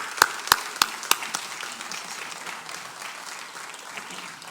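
A few sharp individual claps ring out first, then fade into a light, scattered patter of applause from a small audience at an economic growth meeting in Camp de Tarragona.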